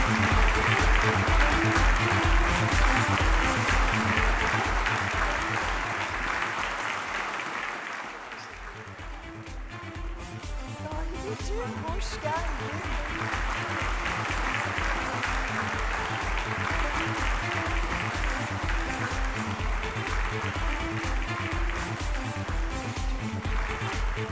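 Loud, continuous audience applause as a presenter comes on stage at a Turkish awards ceremony, with rhythmic music throughout and a short dip in the middle before both swell back.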